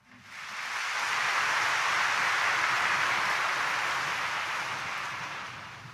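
A church congregation at a Quiapo Church morning Mass claps together in a dense, sustained wash that swells quickly, holds steady for several seconds, then gradually thins out.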